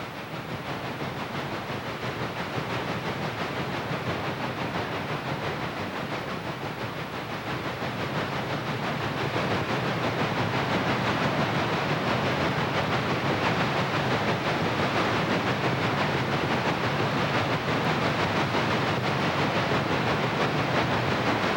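Chesapeake and Ohio steam locomotives, a doubleheader with a pusher, hauling a long, heavy coal drag; a continuous loud roar of exhaust and rolling cars with rail clatter, steady and building slightly throughout.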